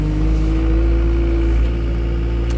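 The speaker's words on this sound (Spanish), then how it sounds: "Ahí está el tractor para echar la comida." Tractor engine on a ranch, used for feeding, running close and loud as a steady low rumble with a faint tonal whine, no speech over it.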